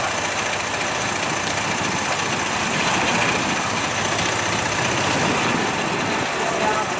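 Oldsmobile-powered gasser hot rod engine idling steadily at a California hot rod reunion car show, a continuous low rumble amid crowd noise and outdoor ambience, with people talking nearby.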